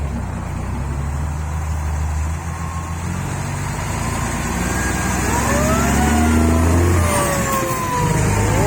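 A Thai S900 combine harvester drives up onto a trailer while its engine runs with a loud, steady drone that rises in pitch as it revs and strains, heard close and without talking.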